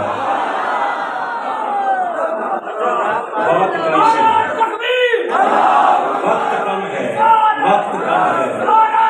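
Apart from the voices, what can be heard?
crowd chanting slogans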